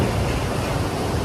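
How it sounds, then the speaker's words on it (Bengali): The Parvati River at Kasol in Himachal flows with a steady, close, broadband rush of water that holds an even level throughout. "এই যে পেছনে বয়ে চলেছে নদী,"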